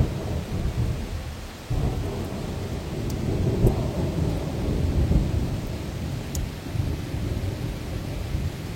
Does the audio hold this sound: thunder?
yes